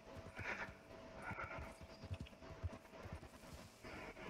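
Horse hoofbeats while riding across open country in Red Dead Redemption, a steady low clip-clop rhythm with faint mid-range tonal background sounds and no talk.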